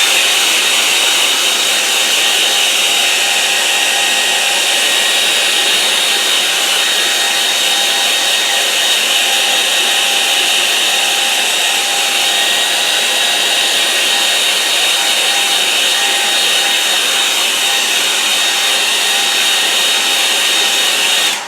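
A hair dryer blowing over a wet watercolour painting, a loud, close, unbroken whooshing roar that stays steady the whole time with no talking.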